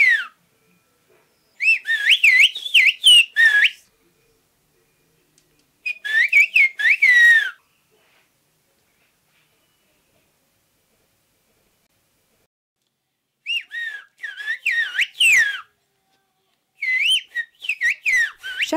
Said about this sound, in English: Villagers in this Greek town can whistle an entire conversation.